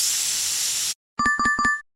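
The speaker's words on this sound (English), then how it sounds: "Sound is tire deflating" A steady, loud rush of air hissing out of a deflating tire for about a second, cut off abruptly, followed by a short series of clipped electronic tones.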